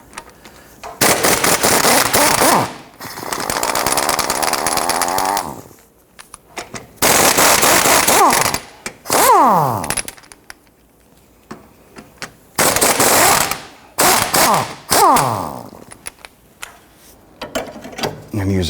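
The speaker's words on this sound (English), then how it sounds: "Using a 17mm socket, let's loosen and remove all three of these for the ball joint." Ratchet wrench with a 17mm socket loosening the ball joint bolts on a 1992-1996 Toyota Camry front control arm, loud bursts of rapid clicking separated by short pauses, close up with no talk.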